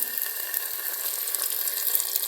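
Sauce pours steadily into a multicooker over fish meatballs, a continuous close hissing splash with no pauses and no voices.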